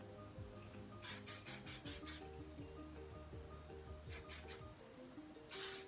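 Short bursts of hairspray hiss in quick clusters, close by, over a faint background hum.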